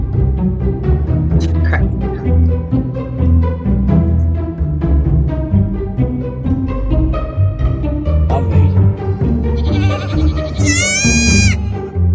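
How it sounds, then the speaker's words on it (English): Goat bleating: a series of loud, wavering, tonal cries, one after another, over a dense background that fills the whole stretch. "That little goat was so cute."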